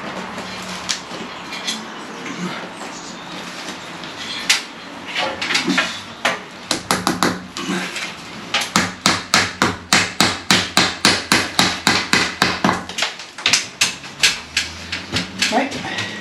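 Nails hammered to tack a lintel in place during a renovation job, starting with scattered blows and then steady rapid runs of sharp strikes, with people talking close by throughout.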